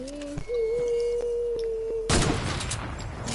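Sniper rifle shot in an online shooter video game, a single sharp loud blast followed by a broad crackling decay after a steady tone.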